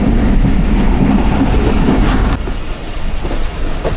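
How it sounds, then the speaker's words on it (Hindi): Passenger train 47 Up Rehman Baba Express running on the line near Jhelum in Pakistan, a loud close rumble of wheels and carriages throughout, easing slightly partway as the rolling continues steadily. "शाम के 4:45 झेलम रेलवे स्टेशन पे अप्रोच बना रही है 47 अप रहमान बाबा एक्सप्रेस"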